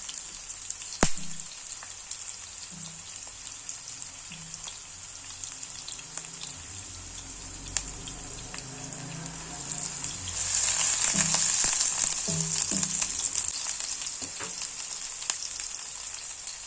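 Garlic hits hot oil in a pan and breaks into a loud, steady hiss and sizzle about two thirds of the way through, following quieter kitchen clinks and a soft sizzle beforehand, with no talk.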